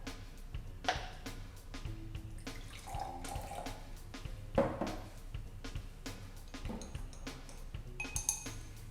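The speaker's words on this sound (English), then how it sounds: "So first, let us mix the milk tea syrup and water." Milk tea syrup and water being mixed in a container at home, with pouring and splashing water sounds, light clinks and drips running steadily through the moment, close and moderately loud.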